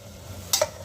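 Rice and water being stirred with a ladle in a pressure cooker for veg biryani: two quick scraping, splashing strokes close by, the second sharper, over a quiet kitchen background.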